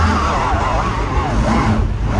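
An Audi Quattro strains to climb a snowy slope, its engine revving loudly and wheels spinning and whining continuously, close by.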